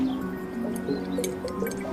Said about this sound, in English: We can see the water is draining from this top vessel as fast as that pipe will carry it really down into the bottom vessel.